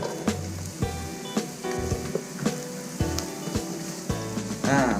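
Chopped shallots sizzle in pork lard over medium heat while cooking sweet pork, a continuous crackling fry punctuated by several sharp clinks and knocks from stirring.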